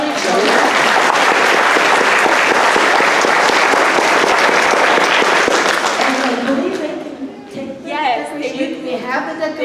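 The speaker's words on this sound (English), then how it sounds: "please, a round of applause for those lovely children" An audience at a Delano Union School District school event claps loudly and densely for a group of children. The applause runs for about six seconds, then fades, and voices and chatter take over.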